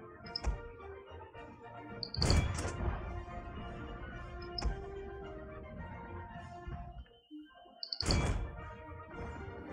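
Wooden warships colliding in a Total War Shogun 2 naval battle: a few heavy, hollow thunks at irregular intervals, with two louder crunching impacts standing out over a continuous layer of battle noise.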